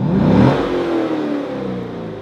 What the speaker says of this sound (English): I'm just gonna rev it as loud as I can so they know that I'm here.